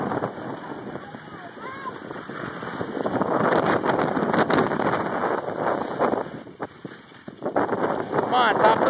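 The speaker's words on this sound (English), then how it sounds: "Oh no, the wind is stopping us." Wind gusting across a muddy trail, a rough buffeting rush on the microphone that swells louder midway and dips briefly near the end, with a person talking over it.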